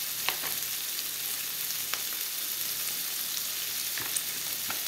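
Cabbage fries in oil in a pan with a steady, moderately loud sizzle, sharpened by a few brief crackling pops, with no talking.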